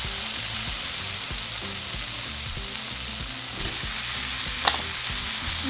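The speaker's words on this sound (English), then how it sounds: "we're going to add in our meat" Ground meat for crunchy tacos dorados fries in a hot pan with vegetables, giving a steady, dense sizzle throughout, with low knocks and scrapes of stirring and one brief sharp click near the end; no voices.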